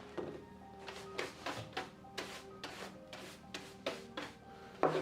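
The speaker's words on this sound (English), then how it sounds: "Palette knife to get rid of" A palette knife scrapes sawdust out of the inside corners of a wooden door under restoration, a steady series of short, close, quiet scraping strokes.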